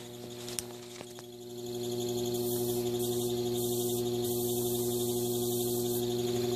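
A treadmill motor driven very slowly through a control board, a steady electrical hum with a faint whine that swells after a couple of seconds and then holds constant, close and fairly quiet.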